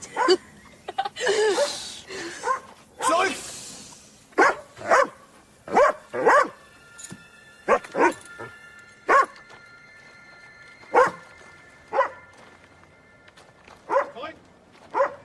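A dog barks in short, loud, repeated bursts spaced a second or two apart, close by, while people talk and laugh between the barks.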